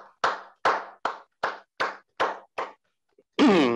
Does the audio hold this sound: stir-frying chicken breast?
no